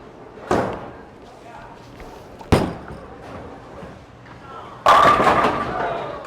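A Helios benchmark bowling ball is thrown on an indoor lane, giving two sharp thuds and then a loud, broadband crash of pins near the end, over a steady hum of alley noise.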